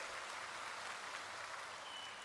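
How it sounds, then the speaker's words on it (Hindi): Crowd clapping at a public relief camp in a village, a dense, even patter of many hands heard at a distance, moderately faint and continuous. "सब ताली बजाओ।"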